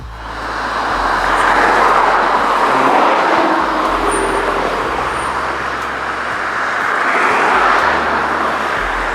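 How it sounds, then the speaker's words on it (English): A loaded CSX military freight train rolls slowly through downtown Atlanta, a steady low rumble and rolling wheel noise close by, with faint high squeals over the continuous roar. "This train is rolling in so slow because it's actually about to stop for a crew change right here."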